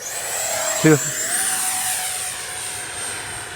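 A Freewing F-14A RC jet whines steadily overhead with a high sustained tone, while a brief short beep or voice burst cuts in near the start over the constant airborne hiss.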